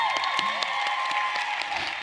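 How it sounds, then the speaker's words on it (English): An audience claps steadily at a live seminar, a dense, even wash of applause from a crowd, with a few sharp claps standing out. "Let's give her a round of applause."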